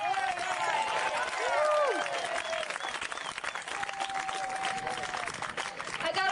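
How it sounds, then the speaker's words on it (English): Applause from an outdoor gathering of activists around a lab, a fairly faint, scattered patter of hands at a distance, with whistles, cheers and crowd voices mixed in. "Please, a big hand of applause."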